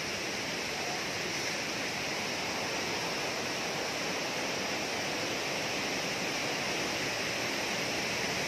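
Rushing flood water pouring over Hinulugang Taktak waterfall, a dense, loud, continuous roar filling the whole clip with no pauses or voices.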